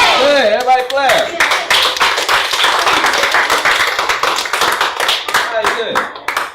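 An audience claps in a classroom science lesson, steady dense clapping after a brief spoken voice at the start, filling the room throughout.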